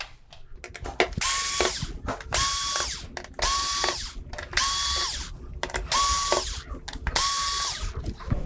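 A power screwdriver backs screws out of a Samsung UN46D6000SF TV main board, six close whirring bursts in a steady rhythm, each ending in a short ratcheting rattle, with brief pauses of handling between them.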